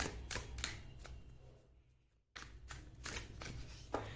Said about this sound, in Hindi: मैं कार्ड्स आपके सामने ही शफल करूंगी